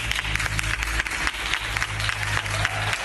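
A crowd claps steadily at the Hospital Universitario de Gran Canaria, applauding a patient who overcame COVID-19, the dense patter of hands sounding slightly distant.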